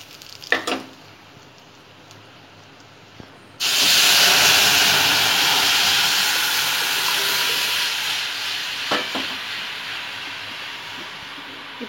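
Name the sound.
rasam heating and bubbling in a pan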